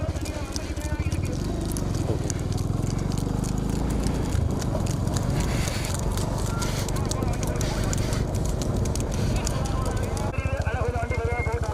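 Bulls hauling carts in a big-bull bullock cart race at Thirupunavasal, Tamil Nadu, give a rapid, continuous pounding of hooves and wheels under loud, constant commentary.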